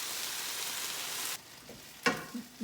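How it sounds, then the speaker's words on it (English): A brief sizzle from a stir-fry of capsicum, broccoli and baby corn in hot oil fades out, followed by a sharp clatter of a utensil against the pan. "This oil is nice and hot, so we're just going to add all our lovely capsicum to it."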